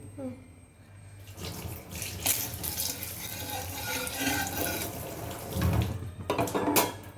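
Chicken skin being rinsed in a kitchen sink, with running tap water splashing and gurgling steadily and fairly close for several seconds, swelling louder near the end.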